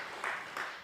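A forum audience claps briefly to welcome a speaker from South Sudan, a short, soft burst of applause that swells twice within under a second.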